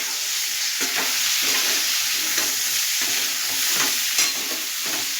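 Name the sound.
jackfruit (ichor) frying in a pan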